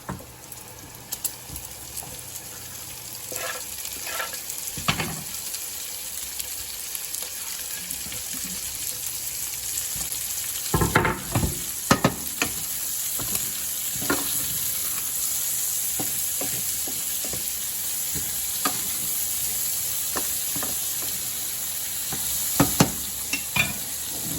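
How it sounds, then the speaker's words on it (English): Onions and garlic fry in a pan with a loud, close, crackling sizzle. Irregular bursts of scraping and stirring sharpen it now and then, and no one talks. "I'm gonna throw the onions and garlic in there now. Let that fry up a little bit."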